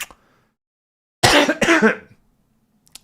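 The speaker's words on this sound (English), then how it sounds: "Triggering my cough." A person coughs twice in quick succession, harsh and close, after a moment of silence.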